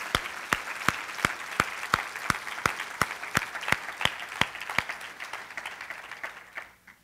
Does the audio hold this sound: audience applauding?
yes